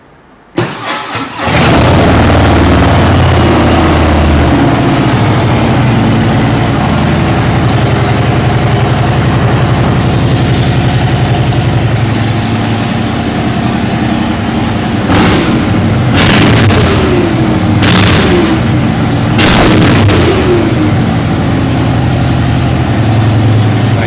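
A Harley-Davidson motorcycle engine cranks and fires up, settles into a loud rumbling idle, then revs sharply several times in quick bursts.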